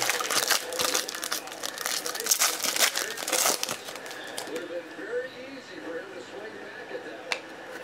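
Cardboard Spectra boxes being torn and busted open, a dense run of crinkly ripping and crunching over the first four seconds that then thins to quieter handling and one sharp snap near the end, with someone talking throughout.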